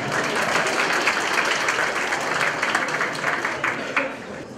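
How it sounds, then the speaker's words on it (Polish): A crowd applauds at a studniówka, a Polish pre-graduation prom ball, with steady dense clapping filling the hall and fading slightly at the end, with no talk over it. "Brawa, proszę."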